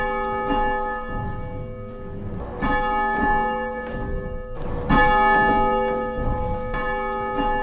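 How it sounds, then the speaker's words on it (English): A church bell in a Unitarian church in Littleton, Massachusetts, rung by pulling its rope, tolls repeatedly in a steady swinging rhythm, loud and resonant with long ringing overtones. "This rope can be used to ring the bell anytime somebody wants to do it"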